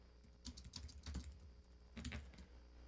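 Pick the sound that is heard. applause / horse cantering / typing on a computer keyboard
typing on a computer keyboard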